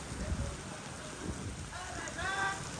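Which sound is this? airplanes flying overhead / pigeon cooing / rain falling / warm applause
rain falling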